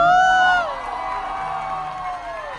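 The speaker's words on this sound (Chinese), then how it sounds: "这一位的欢呼声想必会非常非常的大声" Wedding guests raise a loud cheer, with a bright whooping shout at the start that slides down into a sustained crowd roar lasting a couple of seconds.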